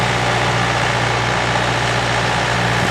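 A tractor engine idles steadily and close by, a continuous low throbbing rumble with a constant hum that holds unchanged throughout, with no voices over it.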